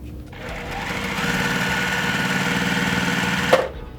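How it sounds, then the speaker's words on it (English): A sewing machine stitches quilt pieces together in one continuous fast run of close, rapid mechanical chatter lasting about three seconds, then stops with a small clunk. "We're going to go ahead and sew these together."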